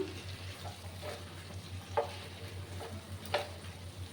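Fish roe and potato fry being stirred in a pan, with a soft low sizzle underneath and a few distinct scraping strokes of the spatula spaced irregularly, fairly quiet and close.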